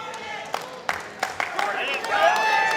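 Wrestling crowd at an NWA event cheering and rallying behind a wrestler, a steady roar with scattered sharp claps and shouts rising toward the end, voices mixed throughout.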